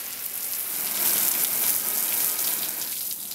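Water sprays onto a car windshield during cleaning and treatment, making a loud, continuous hiss and splatter that swells in the middle and eases slightly toward the end, with no voices.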